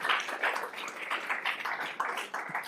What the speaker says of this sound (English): Let's give Xander a round of applause for his amazing toroid